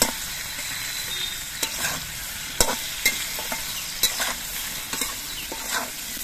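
Potato and eggplant pieces fry together in a pan, a steady sizzle punctuated by repeated scraping stirs from a utensil, close and moderately loud with no speech.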